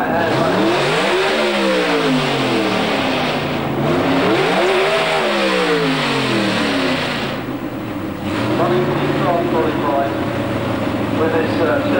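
A 1963 Chevy II Nova drag car from Norway at the Santa Pod World Finals revs loudly through repeated rising and falling sweeps, the engine winding up and dropping back several times, with a commentator talking over it.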